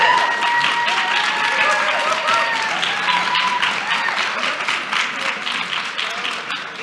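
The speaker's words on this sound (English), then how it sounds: "let's give them a round of applause" Sustained applause from an audience at a foreign policy and national security event, dense clapping that fills the room, holds steady, then slowly thins.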